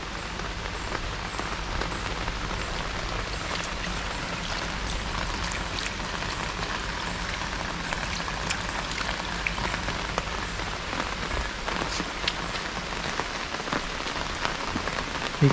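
Monsoon rain falls beside a resort swimming pool in Coorg's coffee hills, a dense and steady patter that fills the whole stretch. Scattered drops tap close by and no one speaks.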